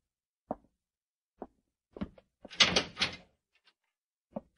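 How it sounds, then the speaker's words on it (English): A cell door swings shut in an old radio drama, a cluster of sharp knocks and a heavy closing thud with a brief rattle, set among isolated clicks in an otherwise quiet scene. "Go in and close the door behind you."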